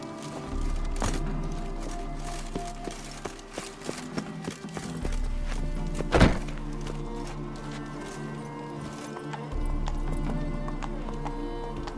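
A horse in The Witcher 3 trots with rhythmic clip-clop hooves over a low, steady in-game hum, with one brief whinny in the middle, close and clear under faint speech.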